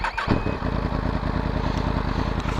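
A Yamaha MT-10 (FZ-10) motorcycle with a Yoshimura aftermarket exhaust idles with a deep, loud, steady rumble, its exhaust chugging in a rapid even pulse after a brief rev at the start.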